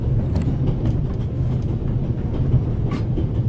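Moving steam train in The Raven Remastered, set in the Swiss Alps, with a steady low rumble and rolling rail noise continuing evenly throughout, fairly loud and close, with faint metallic clinks on top.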